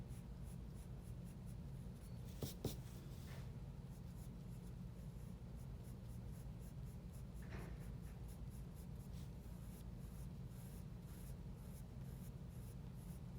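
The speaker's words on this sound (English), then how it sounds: "When you're drawing anything that's very fine, you want to make sure that you have a nice fine pencil as well." Fine pencil strokes drawing hair on paper, soft rapid scratching in quick repeated bursts, close and quiet, alone.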